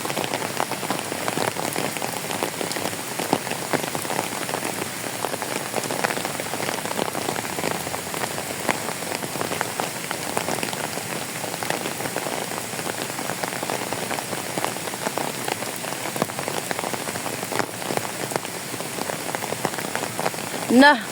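Steady rain falls continuously at a zoological and botanical garden in Hong Kong, a dense hiss of drops pattering on a hard surface nearby, with no break throughout.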